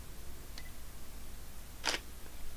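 A studio camera takes a shot at a shutter speed of 1/125: a faint tick comes first, then one crisp, short shutter click over a quiet room hum.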